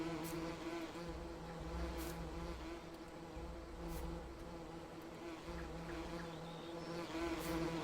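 Bees buzzing around bee boxes on a farm in Farming Simulator 19, a continuous droning hum with layered harmonic tones, steady and fairly close, with a few faint clicks and no talk.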